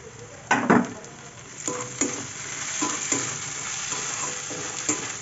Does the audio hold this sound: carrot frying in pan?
yes